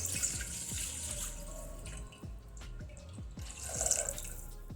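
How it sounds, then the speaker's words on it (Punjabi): Milk pours into a pot on a gas stove with a steady liquid splashing and trickling, joined by soft dripping and a faint low background hum throughout. "ਹੁਣ ਆਪਾਂ ਇਹਦੇ ਵਿੱਚ ਦੁੱਧ ਨੂੰ ਪਾ ਦਵਾਂਗੇ"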